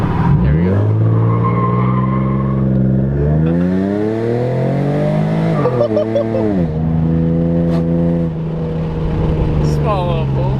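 A Procharged V6 Mustang accelerates hard at wide open throttle, its engine note climbing loudly through rising pitch sweeps with shifts and brief dips, close and dominant, with voices faintly present.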